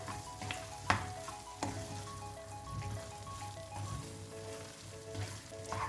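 Peanut chicken with garam masala and a pinch of cumin frying in a pan, a steady sizzle with intermittent clinks and scrapes of a spoon mixing it, close and moderately quiet, no talking.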